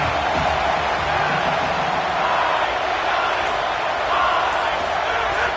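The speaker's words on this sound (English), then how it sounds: "This crowd ready to make its presence known." In an NCAA college football video game, stadium crowd noise forms a dense, loud, continuous roar of massed cheering that keeps a steady level throughout.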